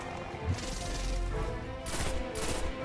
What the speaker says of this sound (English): So we're just gonna keep on shooting him here, right in the middle of that eyeball